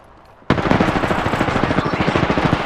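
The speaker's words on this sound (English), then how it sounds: "Opening fire" Rapid automatic gunfire in Apex Legends, a sudden start into a dense, evenly spaced stream of loud, close shots that continues without a break.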